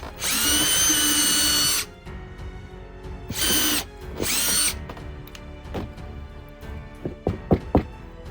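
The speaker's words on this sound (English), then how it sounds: "I will pre-drill some holes in for it" A power drill pre-drills holes in wood battens for a bird table. Two long, high whines of the motor are followed by shorter bursts, then a few sharp knocks and clicks as the work is handled, close by and without talk.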